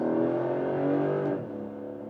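A Porsche 911 GTS 4 Hybrid in Sport Plus mode pulls hard on a racetrack with a loud, sustained engine drone heard from inside. Its pitch drops abruptly partway through, like a gear change.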